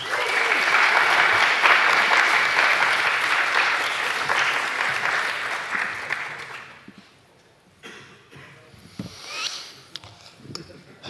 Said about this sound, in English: give our participants a round of applause as they go back to their seats